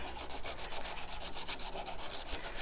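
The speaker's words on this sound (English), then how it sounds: "I'm going to turn the ring around and do a little bit of sanding this way." Quick, rhythmic scratchy rubbing of fine hand sanding on a sterling silver ring, a steady back-and-forth stroke repeated rapidly, close and fairly quiet, with no talking.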